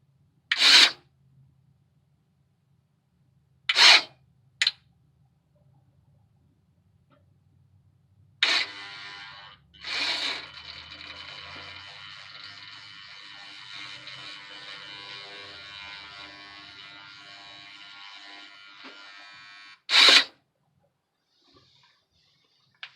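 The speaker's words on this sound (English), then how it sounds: "we are going to make sure that when we hit the switch that the shift motor is actually kicking on" A Chevrolet Trailblazer 4x4 transfer case shift motor runs with a rough, buzzing whir for several seconds, framed by a few sharp clicks and knocks before and after, heard close in a quiet setting.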